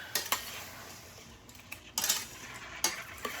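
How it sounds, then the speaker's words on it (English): A spoon clinks against a pot several times while stirring blueberry jam with added spices, producing faint, sparse taps and scrapes close by in a quiet kitchen. "Give it a quick stir"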